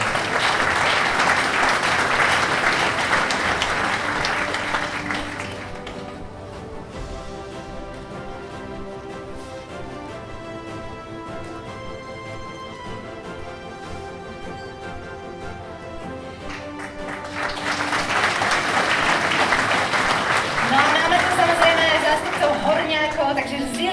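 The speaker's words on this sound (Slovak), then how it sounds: "Takisto ich prosím privítať potleskom." An audience at a village-of-the-year award ceremony claps for arriving mayors: loud, dense applause fades to quieter clapping under a spoken announcement over music, then swells again near the end.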